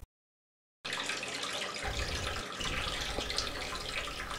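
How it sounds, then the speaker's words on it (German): Water from a garden hose pours steadily into an outdoor goldfish pond basin, a continuous close rushing and splashing that starts abruptly after a short silence and runs on without talk. "Wir lassen wieder Wasser in das Becken hinein mit einem Wasserschlauch."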